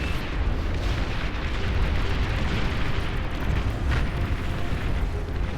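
A continuous dense roar of explosions and artillery-like booms fills the battlefield in Beyond All Reason as a commander unit blows up amid heavy fighting, loud and unbroken throughout.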